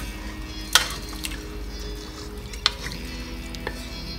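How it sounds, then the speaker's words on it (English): Chili powder and cayenne are stirred into a sizzling cast iron pan, a low steady fry with a few sharp metallic scrapes and taps of the spoon against the iron. "I'm adding in some chili powder and some extra cayenne. And we stir those in."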